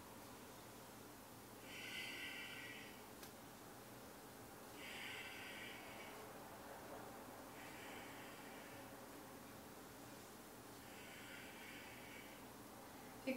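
Four slow, deep breaths during a gentle hatha yoga breathing exercise, each a soft airy rush lasting about a second, evenly spaced and faint against quiet room tone.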